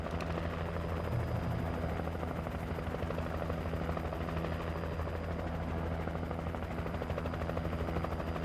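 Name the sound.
helicopter flying overhead in video game Alan Wake Remastered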